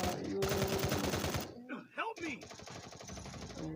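Rapid automatic gunfire bursts in the Counter-Strike video game, a fast rattling volley, then a short gap with a voice speaking excitedly, followed by another sustained burst of shots.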